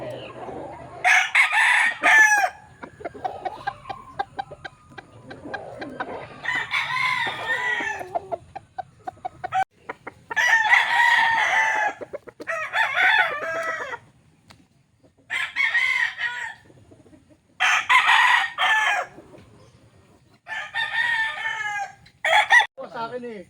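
Gamecock roosters and bullstags crow repeatedly in long, loud bursts with clucking between them, some birds near and some farther off, and faint talk underneath.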